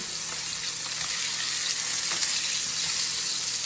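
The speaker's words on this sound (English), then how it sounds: "sausages tend to cook a lot quicker than I think they do" Sausages fry in a pan with a steady, dense sizzle and faint crackles throughout, close and fairly loud, with no one speaking.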